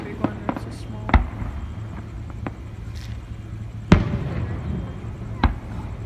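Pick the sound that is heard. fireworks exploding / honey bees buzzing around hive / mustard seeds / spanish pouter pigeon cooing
fireworks exploding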